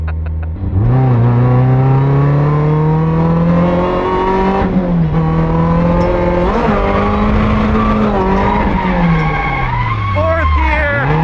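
A drift car engine screams loud and close at Southwest Speed Fest in Arizona, sustained high revs rising and dipping with harsh tire squeal, a person shouting over it.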